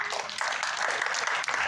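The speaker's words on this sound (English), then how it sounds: "How about a big round of applause for them?" An audience at a New Jersey Hall of Fame honors event gives a round of applause, dense and steady clapping that sits close and fairly loud for the whole short stretch.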